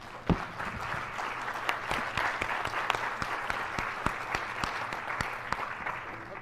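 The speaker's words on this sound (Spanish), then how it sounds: "otro fuerte aplauso ahora" An audience at an academic talk on teachers gives loud applause, dense clapping with a few sharp, close claps standing out over the steady roar.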